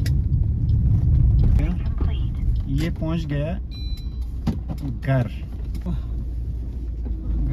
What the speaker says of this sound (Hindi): गाड़ी को यहीं पे ही पार्क करना पड़ेगा